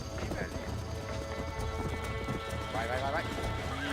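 Horse in the video game Red Dead Redemption, steady hoofbeat clip-clop of a gallop running throughout with a couple of neighs and whinnies, loud and close, over continuous game background and some speech.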